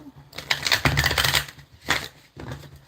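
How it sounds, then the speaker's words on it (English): Tarot cards shuffled by hand in a few quick riffling bursts, close and fairly loud, with short pauses between them. "Let's give this thing one more shuffle"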